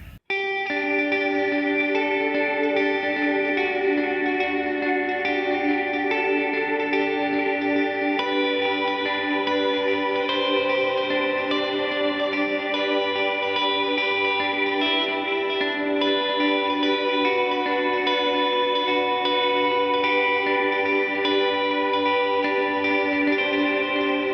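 A sustained Telecaster chord with both pickups on rings out through chorus and echo effects pedals, shimmering and washy, held for a long time without talking.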